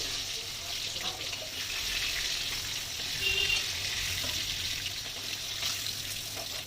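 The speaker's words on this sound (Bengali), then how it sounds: "বাদ বাকি যে মাছগুলো রয়েছে এবার আমি ওগুলোকে ভেজে নেব" Pieces of bogo fish fry in oil with a continuous, moderately loud hiss and sizzle that holds steady throughout, close by and without speech.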